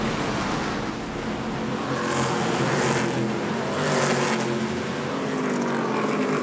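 NASCAR Craftsman Truck Series trucks roar around North Wilkesboro Speedway, a loud, continuous wash of racing engines with swelling passes as the pack sweeps by, and no talk over it.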